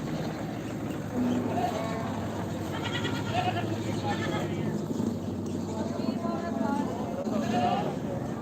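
Goats bleating at an outdoor livestock trading spot, several short, nasal calls rising now and then over a constant noisy background with people talking nearby.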